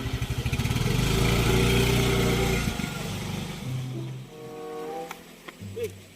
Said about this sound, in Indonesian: kunaon motor yuk ngadat kieu bae sih